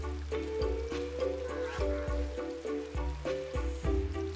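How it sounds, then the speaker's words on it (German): Food sizzling as a character cooks in the RimWorld video game, a soft crackling fry under a low game music bed with recurring thumps. "Nika kocht jetzt für uns"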